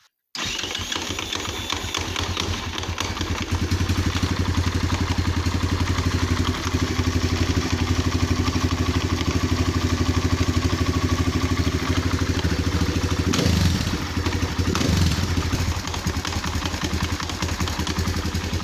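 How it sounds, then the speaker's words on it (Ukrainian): A KOVI 300 motorcycle engine idles with a knocking fault, a steady loud close rumble carrying a rapid repetitive clattering tap that runs throughout, with a few brief throttle surges near the end. "проблема стукає щось з двигуні на холостих оборотах"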